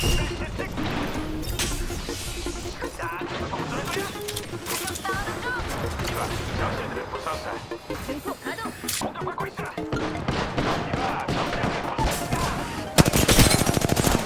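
Rapid automatic gunfire from an Apex Legends match, dense bursts and bangs running throughout with a heavy volley near the end, while a player talks over the shooting.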